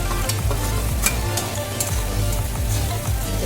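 Masala for white aloo dum, mixed with a roasted spice powder, is stir-fried in a pan. Repeated scraping spatula strokes sound over a constant nearby sizzle, with no voices.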